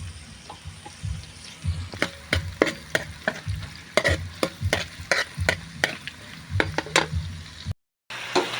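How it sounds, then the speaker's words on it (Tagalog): Onion sautéing in a pan with garlic stirred in: steady frying sizzle under repeated scraping and knocking strokes of a spoon against the pan, rhythmic and close, with a short drop-out near the end. "maggisa muna tayo ng sibuyas. Then ihalo na natin ang bawang"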